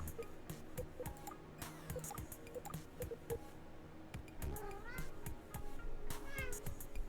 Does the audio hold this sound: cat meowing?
yes